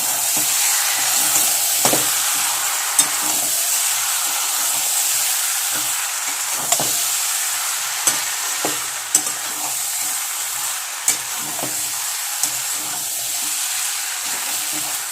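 Prawns and pointed gourd masala with sauce sizzle steadily in a pan, the constant frying hiss broken by regular sharp clicks and scrapes of a spatula stirring, with no voices.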